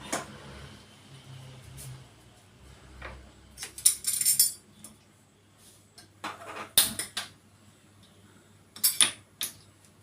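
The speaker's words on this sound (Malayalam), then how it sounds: "നമുക്കിത് കുക്കർ മൂടി വെച്ച് കത്തിച്ച് വെക്കാം" A pressure cooker lid set and locked onto a pot on a home stove, a few sharp metallic clanks and scrapes spread over several seconds against a quiet kitchen background.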